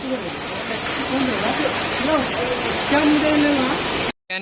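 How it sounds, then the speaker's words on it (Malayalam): Heavy rain pours steadily in a dense, loud roar near a small roadside shelter on the Dudhsagar trek at the Goa–Karnataka border, with voices talking through it before a sudden cut. "മഴയുടെ ശക്തി കൂടിയിട്ടുണ്ട്, ഭയങ്കരമായിട്ട് കൂടിയുണ്ട്"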